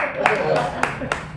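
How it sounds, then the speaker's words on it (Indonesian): A few separate hand claps, about four sharp slaps spaced roughly a third of a second apart, sounding close under ongoing talk during an Indonesian marketing chat. "tepuk tangan dulu buat saya"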